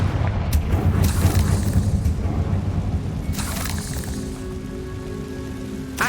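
Confringo spell blast in Hogwarts Legacy: a loud rumbling boom with crackling debris, followed by a second burst and fading rubble-like patter.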